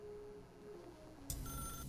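Telephone in the video game The Stanley Parable being picked up: a sudden click-like burst of noise after a quiet electronic hum, followed by a steady tone, with no talking.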